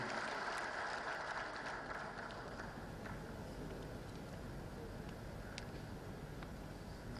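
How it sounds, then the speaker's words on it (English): Applause for President Buhari at a Nigerian Army ceremony, a faint, distant, steady wash of clapping from a large crowd that continues evenly throughout. "a round of applause for him"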